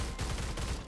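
Gunfire in the video game Stalcraft, a dense burst of rapid shots running through the whole second at moderate loudness, with no talk over it.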